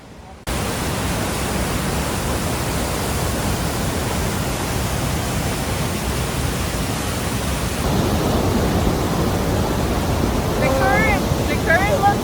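Roar of a powerful waterfall on the Rhine River, a dense, continuous rushing wash of water heard close up, growing slightly louder toward the end, with faint talk under it.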